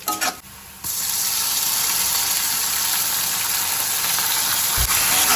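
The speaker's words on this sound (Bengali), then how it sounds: "আদা রসুনগুলোকে ভালো করে একটু ফ্রাই করে নিলাম" Ginger and garlic frying in a pan, a loud steady sizzle that starts abruptly after a short quieter opening and continues evenly with no talking.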